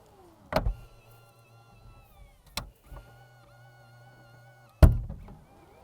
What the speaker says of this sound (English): that was a little bit scary hearing those electric servos pulling the trunk closed